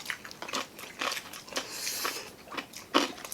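Crunchy bites into the crispy skin of Filipino liempo pork belly, a string of close, crackly crunches and chewing sounds at an irregular pace.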